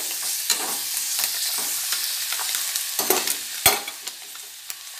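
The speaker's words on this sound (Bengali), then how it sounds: "আমগুলো সুন্দর করে নাড়িয়ে নিচ্ছি একটু হালকা করে" Mango pieces fry with turmeric in a pan for a sour fish curry, a light sizzle beneath repeated scraping strokes of a spatula, one sharp clank standing out near the end.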